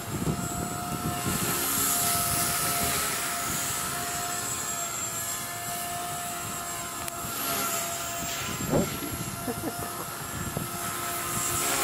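A Blade 130X RC helicopter flies circles outdoors, its high whine of spinning rotors and motor carrying steadily throughout, with someone talking over it.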